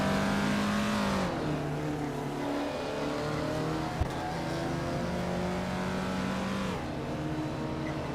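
Vintage Pontiac Bonneville race cars in a racing video game rev and accelerate through tight corners, their engines rising and dropping in pitch with a shift at about every few seconds, a steady loud drone with no talk.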